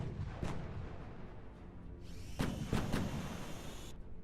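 Distant machine gun fire from a firing position in the Kursk region: a few sharp, muffled shots, one alone and then a tight cluster of three, over quiet background rumble.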